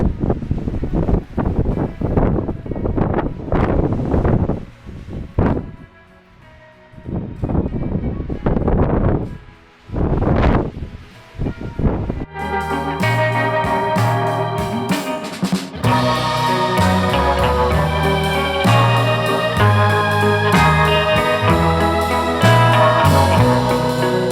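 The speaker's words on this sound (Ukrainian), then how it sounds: "можна почути, який тут вітер" Strong wind on a Carpathian mountainside buffeting the microphone in heavy, uneven gusts, roaring loud and close, then giving way to music.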